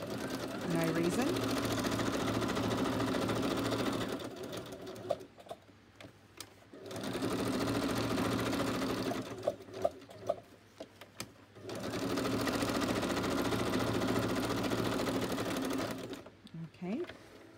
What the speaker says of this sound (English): I was just going to stitch around it just for